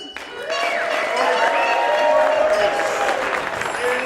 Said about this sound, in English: And let's give a round of applause to our sound station.